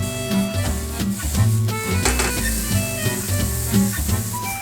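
Champignon mushrooms stir-frying over high heat in a pan: a steady loud hiss and sizzle with scraping, clattering stirs recurring throughout, close up and without talk.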